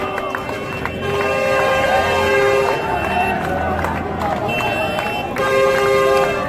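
A train sounds a sustained tonal horn amid a busy, crowded Jerusalem station during a major protest, with voices and clatter around it and the tones cutting in and out.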